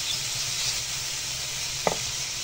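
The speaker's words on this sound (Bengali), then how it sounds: "সিমগুলো খুব সুন্দর করে ভাজা হচ্ছে।" Flat beans fry in a pan with a soft, steady sizzle that runs quietly throughout, broken once by a single brief clink or stir.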